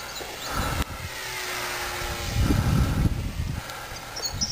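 A nitro-powered 800mm Corsair RC model airplane engine buzzes steadily overhead in flight, whining at a constant pitch with slight rises and falls, heard at a distance outdoors.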